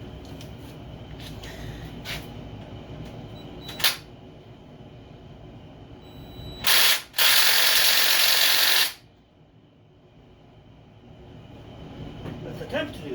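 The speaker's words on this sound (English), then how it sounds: "release them 4 bolts from underneath the motor" Ratchet working the bolts beneath a Poulan Pro snow blower motor: a brief click, then a loud two-second burst of rapid ratcheting over low background noise before it falls quiet.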